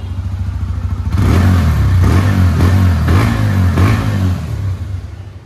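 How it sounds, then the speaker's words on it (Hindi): A 2022 TVS Apache RTR 160 2V motorcycle revs hard through its exhaust, with four or five loud, close throttle blips rising over a deep, steady idle. "उसके बाद अभी एग्जॉस्ट साउंड भी मैं आपको सुनाई देता हूँ।"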